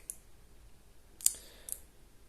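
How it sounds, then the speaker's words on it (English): A Zelos Swordfish dive watch's 120-click ceramic bezel is turned, giving a few sharp, close clicks spaced apart in near silence. "The bezel then, 120 click, nice smooth action."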